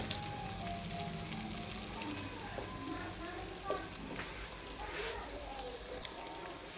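Eggs frying in masala in a pan, a steady soft sizzle with faint stirring scrapes, quiet and continuous, while a voice speaks at times over it.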